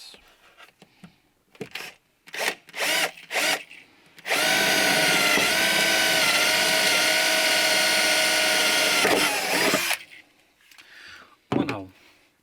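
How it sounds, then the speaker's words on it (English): A power drill bores rivet holes in a Volvo 240 during a seat and carpet install, one loud continuous whine of about six seconds, preceded and followed by short bursts of talk and handling noises. "So I'm just going to drill 2 holes to hold the rivets."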